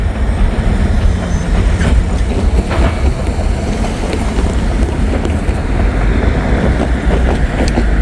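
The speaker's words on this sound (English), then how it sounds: "That's probably the Georgia Power and Light coal train." A Georgia Power and Light coal train passes close and loud at night, a steady roaring rumble of rail cars with clickety-clack and some wind noise on the microphone.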